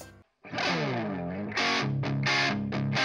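An electric guitar runs through a distortion effect pedal into a small home amplifier, ringing out one long gritty sustained chord followed by a few short, punchy chord stabs.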